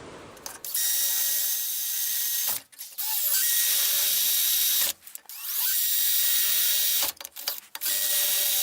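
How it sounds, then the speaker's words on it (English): Loud, close power drilling of bolt holes for a rake, in long sustained runs, briefly interrupted three times as the drill stops and restarts. "Next we'll drill holes for the bolts"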